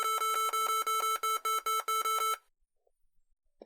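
A rapid series of bright electronic beeps from a computer booting into Genix, evenly pulsed and loud, lasting a couple of seconds before cutting off into near silence with faint clicks.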